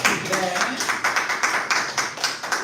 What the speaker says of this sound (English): Get it round of applause.